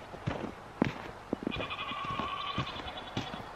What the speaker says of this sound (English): The goats are saying, where's our hay?